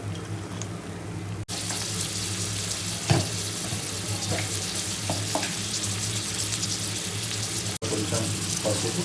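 Chicken pieces for biryani fry in hot oil in a pan, a loud, close, continuous sizzle with a few soft stirring knocks and no talk.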